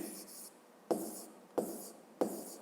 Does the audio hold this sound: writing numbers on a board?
yes